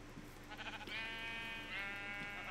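Sheep in the video game Minecraft give two drawn-out bleats with strong harmonic tone, the second following close after the first, fairly loud over a quiet background.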